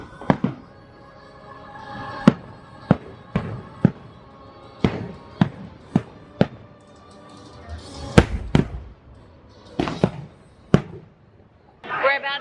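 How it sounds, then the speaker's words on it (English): Fireworks burst at Magic Kingdom, a series of sharp, loud booms spaced a second or so apart, with a few overlapping cracks later on over a low crowd murmur. "Fireworks are still going off"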